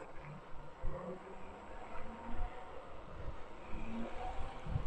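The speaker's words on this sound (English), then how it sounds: "Car coming now, see what ambient sounds are like." A car passing by on a very windy day, captured by a lavalier mic with a windscreen, a low engine rumble rising and falling under steady wind noise, fairly quiet overall.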